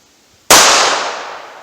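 A snub-nose revolver fires a single target-load wadcutter round: one sharp, very loud close crack that rings off and decays over about a second.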